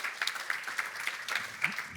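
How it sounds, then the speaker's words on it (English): Sparse, faint applause from a small audience for a panel at the end of a broadcasting talk, with individual claps clearly separated. "round of applause for the panel"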